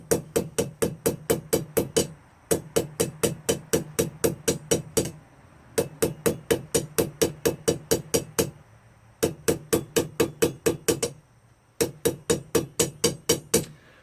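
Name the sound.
blacksmith hammering steel pipe to forge a taper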